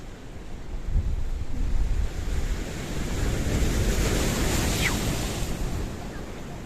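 Sea waves breaking against the rocks at Kato Paphos Harbour in Cyprus, heard as a loud, steady roar of surf mixed with gusty wind buffeting the microphone, with no clear individual wave crashes standing out.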